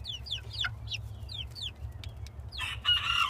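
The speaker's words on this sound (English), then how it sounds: "Yeah, I'm pretty sure Samuel, he said that he was definitely sure that my barred rock was a rooster." A barred rock rooster crows close by amid a run of rapid bird chirps and clucks from the coop during morning chores, with a louder burst near the end.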